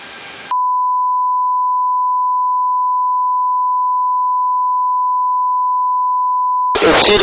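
A naval ship's fire-control radar lock-on warning tone: a single steady, pure electronic beep held unbroken for about six seconds, loud and clear, with brief bursts of noisy background on either side.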